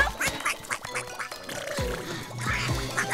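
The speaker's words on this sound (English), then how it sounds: "That doesn't sound like a happy quack." A cartoonish duck quacks repeatedly in short, raspy bursts, close and fairly loud, with no talking.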